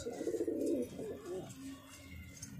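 Bajra gandedar pigeons coo in a loft in Tonk, Rajasthan, with a low, throaty rolling coo up close at the start that fades into softer background bird sounds.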